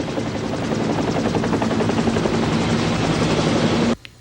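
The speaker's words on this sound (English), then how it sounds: "now I can hear the helicopter coming" A helicopter thunders overhead, its rotor beating in a fast, steady chop with a droning engine tone, loud and close before cutting off abruptly.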